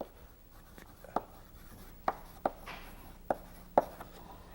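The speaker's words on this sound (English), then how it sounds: "I'll just write that word down" Chalk writing a word on a blackboard in a lecture hall, several sharp taps and scratchy strokes spaced unevenly over a low room hum, close and distinct, no voice over it.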